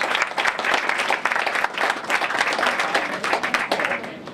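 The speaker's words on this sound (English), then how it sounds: "So give them a round of applause." An audience applauds steadily at a manufacturing company dedication honoring a motorsports crew, sustained clapping from many hands that tapers off near the end.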